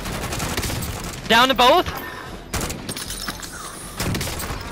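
Gunfire in the Warzone game, several bursts of shots scattered through the clip, with a voice speaking briefly over a tonal in-game cue.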